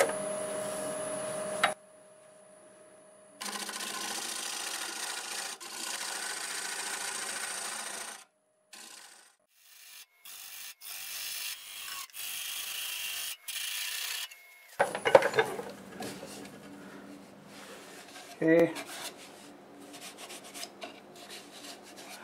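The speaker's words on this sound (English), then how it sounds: "So I'm going to switch to my carbide hollower." A carbide hollower cuts into black oak on a wood lathe turning at 860 RPM, giving a steady scraping, rasping hiss in long stretches, broken by pauses and a few sharp knocks near the end.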